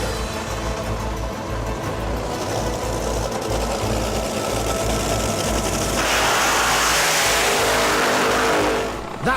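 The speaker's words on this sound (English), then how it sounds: "That was Rod just warming up his tyres." An 8000-horsepower drag racer warms its tyres with a loud, close, sustained engine roar that holds steady and then swells harder and brighter toward the end.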